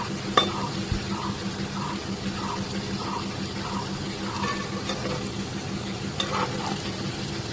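Homemade sweets frying in a pan, stirred and turned with a spatula, give a steady soft sizzle with a row of evenly spaced scraping strokes and an occasional sharper knock against the pan.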